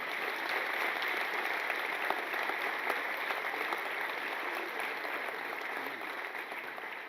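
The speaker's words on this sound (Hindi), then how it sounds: "मैं चाहता हूं मेरे कहने पे एक बार आप अपने लिए फिर से तालियां बजाएं" Concert audience at a musical tribute show applauding, a dense, sustained wash of many hands clapping at moderate volume with no break throughout.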